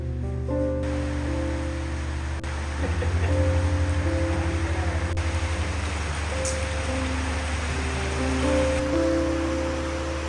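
Rain falls steadily around a house in Karnataka, a constant even patter with a low steady hum underneath, moderately loud and without voices.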